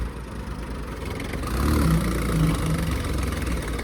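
Heavy tractor engine running at a steady idle during a tractor power show, a deep continuous rumble that swells slightly louder midway, close by, with no talking.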